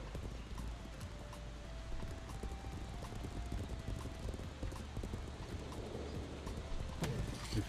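Repeated clip-clop of several horses' hooves in the online game Legends of Aria, a busy, uneven trotting rhythm that carries on throughout at moderate distance, with a few brief tonal chimes.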